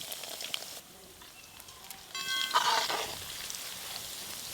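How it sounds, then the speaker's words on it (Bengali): Langcha sweets frying in hot oil over a strong flame: a soft, steady sizzle that swells into a brighter, louder bubbling burst midway, then settles back to a quieter fizz. "ল্যাংচা ভাজার জন্য আঁচটাই হচ্ছে মেন।"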